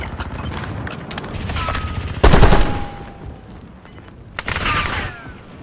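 Gunfire in Call of Duty Warzone: rapid bursts of shots, with one loud close volley in the middle and another burst near the end. Lighter distant shots and game effects fill the gaps.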